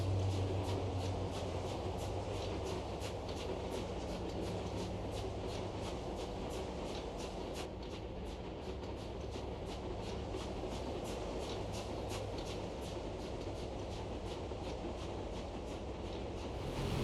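A steam locomotive runs in the IL-2 Sturmovik flight game, heard as a continuous rolling rumble with rapid, regular clickety-clack rail beats pulsing throughout at moderate distance, no voices.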